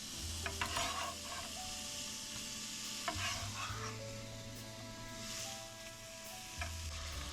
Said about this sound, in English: Then throw your bacon in to start rendering.